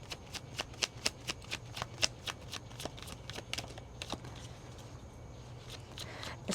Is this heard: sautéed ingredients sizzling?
no